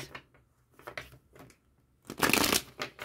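A deck of Spanish playing cards is shuffled in a series of soft riffles and taps, ending in a louder, longer riffle, close by with no talk.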